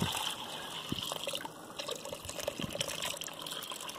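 Water leaking and trickling out of a hole in a homemade DIY dumbbell mold, a steady close wash of liquid with a few brief splashes and gushes, no speech.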